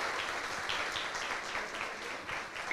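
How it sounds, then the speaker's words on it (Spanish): At a talk on facing an Alzheimer's diagnosis, the audience gives a doctor a short round of applause. The clapping is brief, fairly quiet and steady, with no speech over it. "doctora, merece un aplauso"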